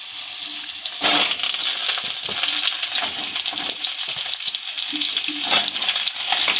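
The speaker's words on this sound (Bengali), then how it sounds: "আর এই যে পটলগুলো কেটে নিয়েছি এগুলো এবার ভেজে নেব" Cut pointed gourd (potol) frying in hot mustard oil, a loud, steady crackling sizzle throughout with sharp spatters and a few scraping stirs, close and without speech.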